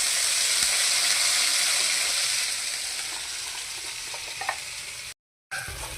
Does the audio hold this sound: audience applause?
no